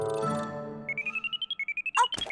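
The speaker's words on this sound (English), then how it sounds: "Oh, that's my to-do alarm." A cartoon to-do list alarm beeps in a rapid run of rising electronic chirps that step upward in pitch, following a brief tonal chime and ending in a short jingle burst.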